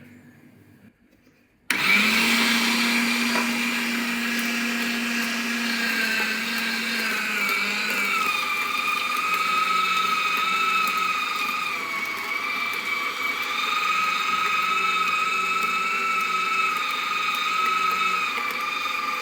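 An MM30 machine grinds carrots into mash, starting abruptly after a quiet moment and then whirring loudly and steadily like a blender, with a high motor whine that shifts slightly in pitch as it runs on alone.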